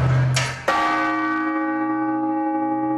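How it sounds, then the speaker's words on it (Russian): An Orthodox church bell rings the blagovest call to service, two struck tolls close together followed by a long, loud, resonant hum that slowly fades. "В этом случае благовест, что призывает людей на службу, равномерный."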